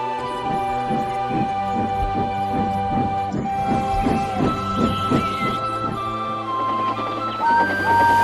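An animated steam engine chuffs past in a steady rhythmic beat over a humming, whistling tone, fairly loud and close, with a rising whistle near the end.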